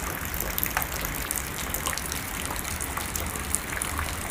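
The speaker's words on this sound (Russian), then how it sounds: "Пошел такой хороший дождь." Heavy summer rain pours steadily outdoors in Tolyatti, Russia, splashing into bubbling puddles with a dense, loud hiss and scattered sharper drips up close, and no one speaks.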